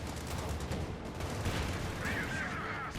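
A light infantry gun fires amid battle in the real-time strategy game Company of Heroes 2, a muffled rattle of gunfire and blasts heard at a distance, fairly quiet and continuous, with no talk.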